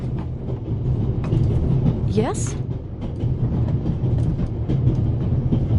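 Steady rumble of a train riding its rails in The Raven video game on PS4, a continuous low rolling drone with faint rhythmic clatter throughout, while a voice speaks briefly over it.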